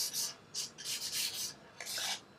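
Light hand sanding with 400-grit paper on the painted body of a tribute guitar: soft, faint scratchy rasps in four or five short strokes, each a brief brushing hiss separated by quiet pauses.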